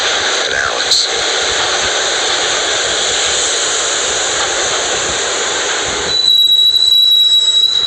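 Subway train ride in the video game Max Payne, a loud steady roar of wheels on rails with rumbling underneath, then a shift to a harsher clattering tone with a high squeal near the end.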